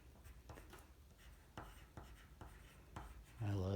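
A wax crayon writing on a surface gives soft, close scratchy strokes in short bursts with brief pauses, then a louder rustle at the end; a quiet voice is heard at points.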